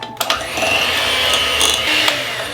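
An electric mixer whirs steadily as it beats eggs into batter for a Basque burnt San Sebastian cheesecake. The motor drone holds fairly even, with a few brief louder surges as the beaters shift.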